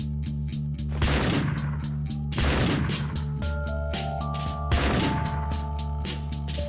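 Gunfire in the video game Arrest of a Stone Buddha: three loud, sharp shots spaced a couple of seconds apart, each with a ringing decay, over a steady droning musical background.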